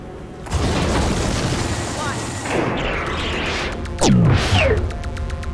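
A tectonic weapon fires in a disaster film: a loud, sustained rumbling roar builds, a heavy boom with a descending whoosh hits near the end, and voices speak over the din.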